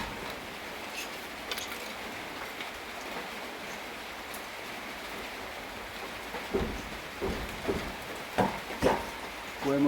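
Rain falls steadily on an outdoor surface in a Thai village setting, a soft continuous hiss with heavier drops and thuds toward the end, while people talk faintly in the background.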